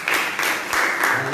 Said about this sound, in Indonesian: Mari berikan tepuk tangan bagi Tuhan kita.